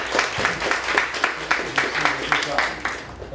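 Audience applause welcoming a speaker at a philosophy talk on the death penalty debate in Taichung: steady, rhythmic clapping at moderate volume, evenly spaced strong claps over a softer crowd bed, with talk running underneath.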